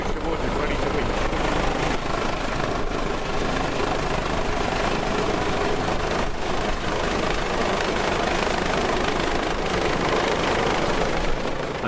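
An RAF helicopter makes its final approach to winch over a lifeboat at sea during a joint exercise, a steady loud rotor and engine roar filling the whole stretch without pause.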